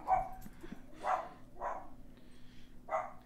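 A dog barks four times at a moderate distance, with sharp, evenly spaced yaps over a quiet background.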